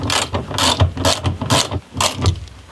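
A hand ratchet clicks rapidly and loudly up close while tightening a nut on a Ford engine, in several quick bursts of sharp metallic ticks with short pauses between strokes.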